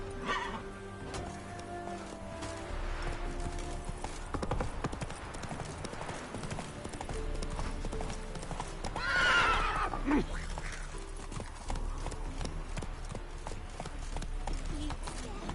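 Roach the horse in The Witcher 3 gallops with steady clip-clop hoofbeats and lets out a loud whinny near the middle, all under game music and a voice talking over the action.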